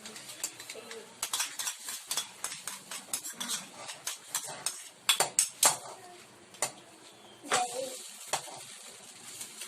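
Repeated clinking and scraping of a utensil stirring sauce made from Choc Nut chocolate candy in a bowl, irregular and fairly close, with soft background noise and a few bird-like chirps.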